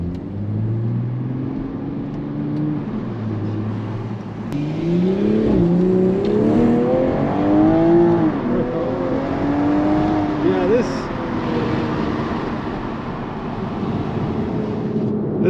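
A 2022 Toyota GR Supra 3.0 pulls hard on the road, its engine note climbing in pitch through rising gears after a quieter cruising start, heard from inside the car.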